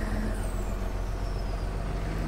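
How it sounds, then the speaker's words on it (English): A Peterbilt truck's Jake brake in Farming Simulator 17 gives a continuous, rough, droning engine-brake rumble that holds steady and fairly loud throughout, with no talking. "that Jake brake sound in there."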